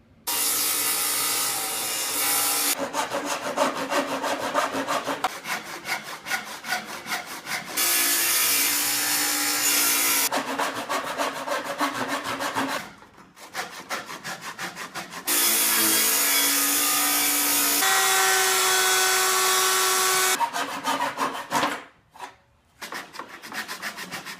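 Oak boards are cut with a power saw, ripping and cross-cutting in several long, loud, steady passes, each ending in a sudden stop and short quiet gap before the next cut starts.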